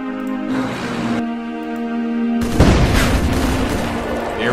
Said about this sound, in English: I'm also going to fire at distance here with our Churchill